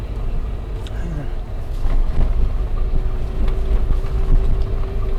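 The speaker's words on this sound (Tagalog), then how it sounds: "Medyo malakas ang hangin." Steady wind roaring across the microphone with low rumbling buffeting in the Qatar desert, joined partway by a faint engine-like hum, no clear talk.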